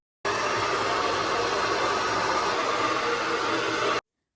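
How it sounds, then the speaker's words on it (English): A hair dryer blows steadily on natural hair, a loud continuous close whoosh that starts and stops abruptly, running alone for several seconds. "I went ahead and blow dried it"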